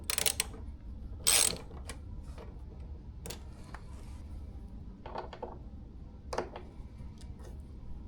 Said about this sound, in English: This is a mini ratchet made by a company called Wadsworth.